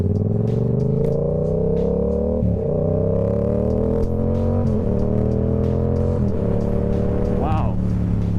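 A Yamaha R7 motorcycle with an ECU tune accelerating hard, the engine note rising steadily through several gears with short dips at each shift, loud and close throughout with wind noise on top.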